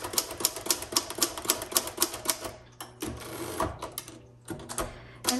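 Someone types on a 1954 Royal HH desktop typewriter. Keys strike in a quick, sharp, fairly even rhythm, then come more sparsely with short pauses, loud and close with no voices.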